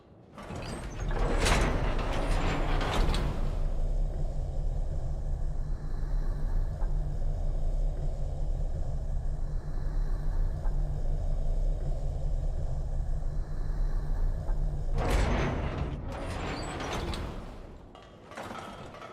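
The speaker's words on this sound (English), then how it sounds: "Let's take the elevator to the surface." An elevator in the Code Vein 2 video game rises from an underground area toward the surface, giving a steady low mechanical rumble and hum for most of the ride, with clanking door or mechanism sounds at the start and end.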